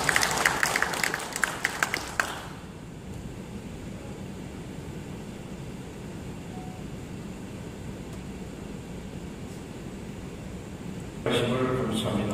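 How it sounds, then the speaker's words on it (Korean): Applause from a congregation at a Saturday early-morning prayer meeting greets a church elder, a burst of clapping at the opening that fades into quiet room noise before a voice begins speaking at the end. "박수로 모십니다"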